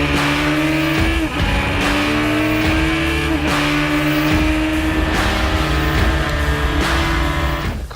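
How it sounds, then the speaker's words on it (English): Sierra Alpha race car lapping Pikes Peak International Raceway, its engine roaring loud and close with repeated rising revs and sharp shifts throughout, sustained and without talk. "The car was making consistent clean laps and wiping the track of every car in its way."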